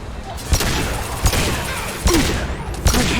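Gunfire in the Mass Effect 2 video game: several sharp, loud shots at irregular intervals over constant combat noise, with brief voices in between.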